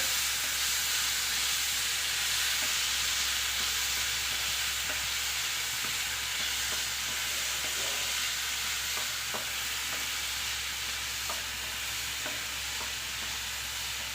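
Chopped small bananas fry in ghee, a continuous close sizzle and hiss with soft scraping stirs recurring throughout, no voices.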